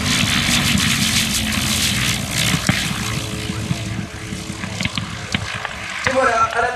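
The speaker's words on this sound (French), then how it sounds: "Et voilà, à l'atterrissage, en pétaradant, le Mosquito." A de Havilland Mosquito, a twin-engine propeller warplane, lands with its engines backfiring, a loud sustained propeller drone with sharp cracks and pops, heard at an airfield with someone talking over it.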